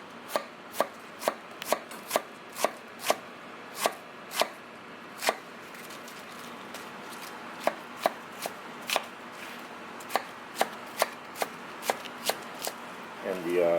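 A knife chopping cabbage for okonomiyaki, sharp close taps on a cutting board at a steady rhythm, pausing briefly midway before resuming with quicker, softer strokes.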